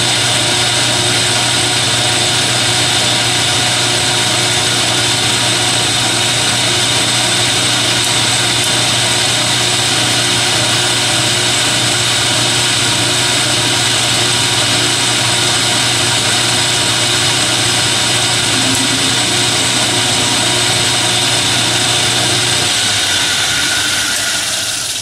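A metal lathe runs steadily and loudly while machining a part for a knurling tool, a constant mechanical drone with a low hum and a rhythmic whir that eases off at the very end.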